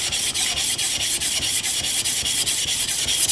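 The back of a steel blade is rubbed flat on a sharpening stone in a steady, gritty rasp, with quick back-and-forth strokes roughly three per second, close and continuous, with no voices.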